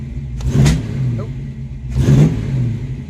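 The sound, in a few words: carbureted car engine revving and backfiring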